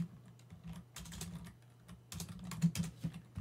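Code is typed into VS Code on a computer keyboard, with close, brisk clusters of key clicks in uneven bursts and short pauses over a low electrical hum.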